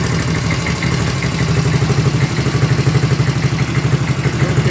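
A Honda Dream motorcycle engine idles while warming up after a carburetor fix, a close, steady, lumpy putter with fast rhythmic firing pulses and light mechanical clatter, no voices over it.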